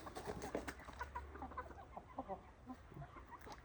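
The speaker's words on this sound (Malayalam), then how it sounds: "നമ്മുടെ വീട്ടിലെ കോഴിയാണ് കേട്ടോ." Domestic chickens from a small home coop cluck softly at close range, a run of short uneven calls and murmurs with light rustling around them.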